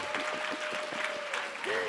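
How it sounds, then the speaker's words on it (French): An audience applauds at a French conference talk on stage, steady dense clapping across the whole moment, with a faint voice briefly over it. "Il faut applaudir Marie quand même"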